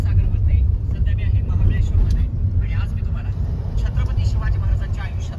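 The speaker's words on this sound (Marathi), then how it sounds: "दादा गाडी चालवतोय" A car's engine and road noise give a steady low rumble from inside the cabin on a drive around Mahabaleshwar, running continuously beneath people talking.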